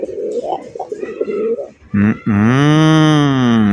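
Red pigeons coo close by, starting with low guttural grunting murmurs and swelling into a long, loud, sustained coo that fills the last half.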